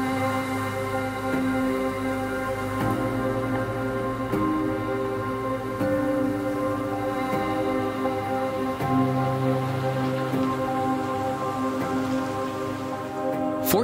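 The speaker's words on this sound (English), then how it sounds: "beautiful rainy day." Steady rain on a cold December morning among steep hillside vineyards, falling and running down a street with a continuous close patter and no talk.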